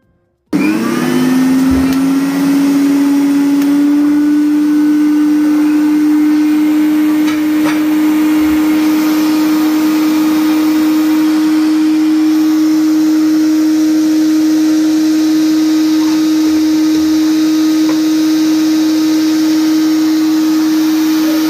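A Butterfly Magic food processor switches on and whirs loudly at full speed, a steady high-pitched motor whine that holds constant without pause.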